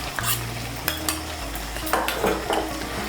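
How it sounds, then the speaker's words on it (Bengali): A spoon stirs sour yogurt into a spice mix for a vegetarian Bengali motor dal muitha. Close, scraping stirs come with light metallic clinks against the pan and a faint sizzle underneath. "টক দইটাকে ভালো করে মিশিয়ে নেব।"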